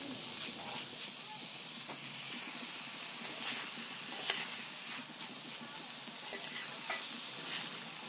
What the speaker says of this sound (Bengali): এবার সব ভালো মতো একসাথে ভেজে নেব